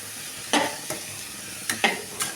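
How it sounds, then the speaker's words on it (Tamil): Bitter gourd sautéing in a generous amount of oil on a low flame, a gentle sizzle broken by several quick scraping stirs of a spatula in the pan, close and moderately loud, with no voices. "நம்ம எண்ணெயிலேயே அப்படியே நல்லா சிம்மில் வச்சு வணக்கிடலாங்க"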